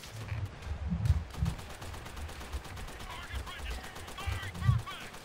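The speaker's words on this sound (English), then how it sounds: "that machine gun" Machine gun fire in Call of Duty: World at War, rapid bursts of shots with heavier single reports, some close and some more distant, mixed with someone speaking over the action.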